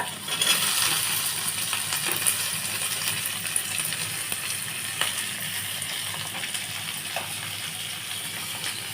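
Onion and capsicum fry in hot oil in a wok, giving a dense, continuous hiss and crackle that stays close and even, with occasional light taps and clinks.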